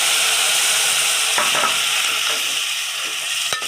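Chicken for Malvani kombdi vade frying in a pan with chilli powder, coriander powder and turmeric, giving a loud, steady sizzle throughout, with a few stirring scrapes and one sharp clink near the end.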